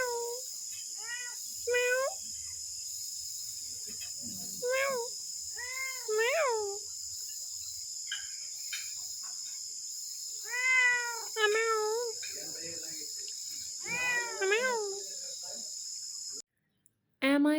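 Several cats meow repeatedly in short, rising-and-falling cries, some overlapping, against a steady high insect or cricket drone outdoors in Cambodia, heard at breakfast time, with no talking.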